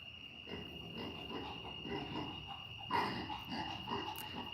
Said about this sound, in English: I hear the crickets in the background.